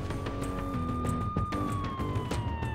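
Police car siren wailing in a slow steady rise and fall, heard at moderate distance over a busy background with scattered thumps.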